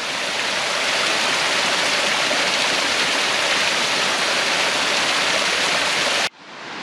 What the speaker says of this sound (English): Everywhere you look, there's little streams and miniature waterfalls.